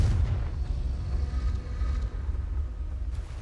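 A Confringo blasting spell in Hogwarts Legacy lands as a low, rumbling blast that sustains rather than cracks. It is moderately loud and stays heavy through the whole stretch, with no voices.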